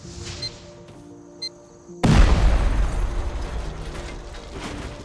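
Loud explosions in the survival video game Rust burst in suddenly after a quiet stretch, then roll into a sustained rumbling roar with mechanical clanking underneath.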